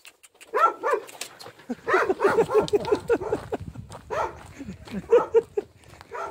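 A dog barks in short, irregular bursts at a village edge, fairly close, mixed in with people talking over it throughout.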